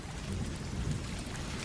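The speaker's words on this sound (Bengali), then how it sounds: "পায়ের নিচে কাদা, মাথার ওপর অঝোর বৃষ্টি।" Heavy rain pours down in a dense, unbroken roar with a low rumble of thunder underneath, loud and close throughout, as a cartoon storm effect.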